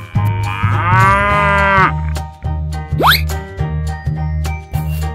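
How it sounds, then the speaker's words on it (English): A cow moos loudly once, a long drawn-out low call, followed by soft rhythmic thumping and a brief rising whistle-like squeak in a cartoonish animal sequence. "Cow."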